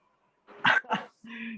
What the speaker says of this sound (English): the dog sound is more of a Pomeranian than like a bigger dog